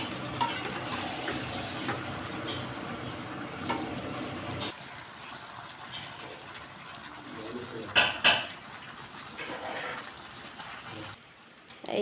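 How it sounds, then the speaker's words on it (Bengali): Cabbage cooking in a pot in a home kitchen before dawn, with steady sizzling and scraping stirs throughout and a couple of louder clanks of a utensil against the pot near the end. "এই যে দেখো বাঁধাকপি রান্না হচ্ছে"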